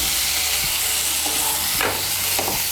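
Boiled potato pieces frying in a spice paste for vegetarian pea ghugni, a loud, dense, continuous sizzle with a couple of spatula scrapes.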